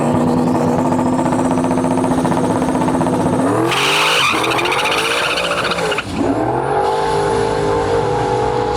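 A turbocharged LS-powered Foxbody roars off the line at a drag strip, loud engine revving with a brief tire squeal and a gear change midway, then pulling hard and fading slightly as it runs away.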